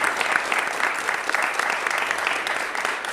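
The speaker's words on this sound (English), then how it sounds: "o ask for everyone to give Samantha Williams another round of applause because" An audience claps steadily at a city and law enforcement report release event, a dense patter of many hands filling a room, with no speech over it.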